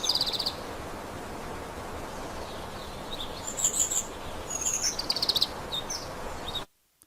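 Birdsong in an AI-generated outdoor scene of a dog running and playing: short high chirps and tweets come in scattered bursts over a steady noisy ambient bed, which cuts off abruptly at the end.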